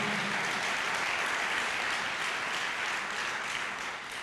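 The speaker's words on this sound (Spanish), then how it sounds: "Un fuerte aplauso al Rey de Reyes." Steady, sustained applause fills a church congregation honoring the King of Kings, a dense wash of many hands clapping at even loudness throughout, tapering slightly at the end.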